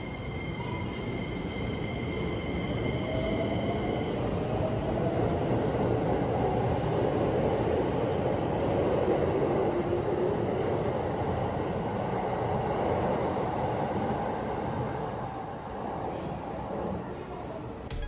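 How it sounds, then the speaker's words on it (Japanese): A Keikyu line train pulls away from a platform at Yokohama Station, a continuous loud rolling roar of wheels and motors up close, with a faint rising whine through the middle as it gathers speed. "まずは乗ってきた列車を見送ります。"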